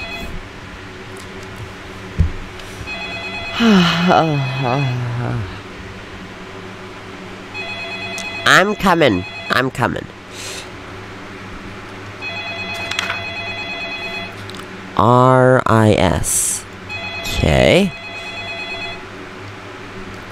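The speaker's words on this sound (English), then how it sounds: "Oh, phone call. It's a phone call." A telephone in a video game rings in repeated bursts of a bright electronic trill with pauses between them, while someone speaks a few words between the rings.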